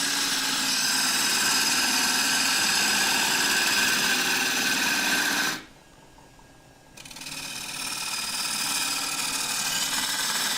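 A lathe gouge cuts into a spinning oak burr bowl, sending shavings flying with a loud, continuous rough whir and grind that drops out briefly partway through before the cutting resumes.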